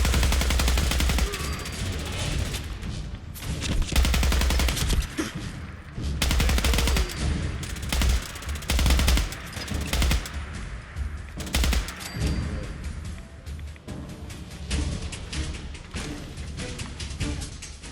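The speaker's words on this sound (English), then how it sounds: "that's a turret somewhere" Automated turret gunfire in Fallout 4, rapid bursts of loud machine-gun shots in repeated volleys with short pauses, sharp and close-sounding.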